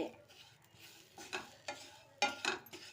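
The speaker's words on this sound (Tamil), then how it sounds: "இந்த மாங்காய் எதுவும் இதில் போட்டு ஒரு பெரட்டு பெரட்டி" Spiced mango pickle with ground fenugreek is stirred in an oily pan: several close, scraping strokes in irregular rhythm over a soft sizzle.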